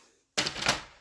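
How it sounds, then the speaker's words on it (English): Scissors make one quick, crisp snip into the edge of a paper envelope after a moment of quiet, fairly close and soft. "all I'm going to do is just cut around my edge of my envelope"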